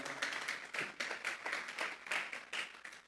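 A church congregation claps hands together in praise, a dense run of rhythmic clapping in bursts of roughly steady beats, moderately loud and filling the space with no talk over it.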